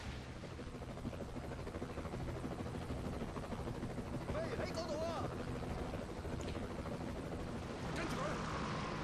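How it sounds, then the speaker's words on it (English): A constant low rotor drone from a helicopter in the video game Rise to Honour, droning steadily throughout with faint game sounds over it. "And now a helicopter came out of the truck."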